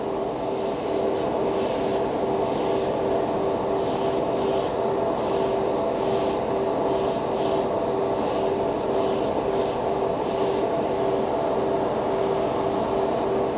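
An airbrush sprays Vallejo Premium paint onto plastic in repeated short bursts of hissing air over a constant compressor drone, the bursts close and evenly paced, with no talking.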